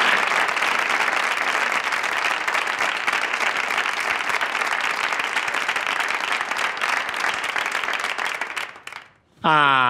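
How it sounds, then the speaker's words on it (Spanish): Big, dense applause from a large audience honouring teachers at an education talk, steady and loud for about nine seconds before cutting off abruptly, with a brief tonal sweep at the very end. "pido un fuerte aplauso"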